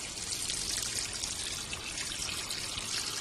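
Water poured in a steady stream, giving a bright, continuous splashing hiss that runs unbroken for about three seconds, close and fairly quiet, with no voices.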